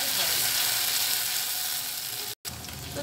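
Potatoes and spice paste frying in a pan, a steady broadband sizzle that holds close and even for about three seconds, with one brief dropout near the end.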